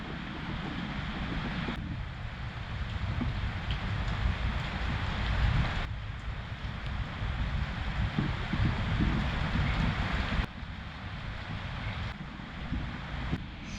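Rain falls on a rainy day in Koh Samui, Thailand, a steady hissing wash with low rumble and wind buffeting, moderately loud and continuous, no speech.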